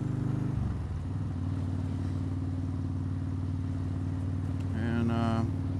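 Steady mid-pitched motorcycle engine drone while riding on a foggy road, with a brief shift in tone near the start and a rising rev near the end, loud and close throughout.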